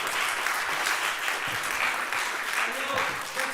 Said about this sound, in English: I want to have the chance to give Alex a round of applause.